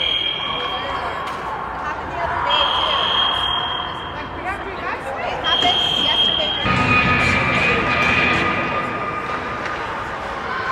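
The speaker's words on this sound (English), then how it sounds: "We have a little bit of fire alarm going off here." A fire alarm blares in an ice rink during a hockey game, a steady high electronic tone that stops and restarts in long bursts over crowd noise and arena bustle, with a voice talking underneath.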